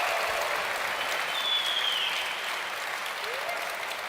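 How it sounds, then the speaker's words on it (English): A large crowd of fans applauding at QuakeCon, a steady, even roar of clapping filling the hall, with a faint whistle rising above it partway through. "Let's give everybody a round of applause"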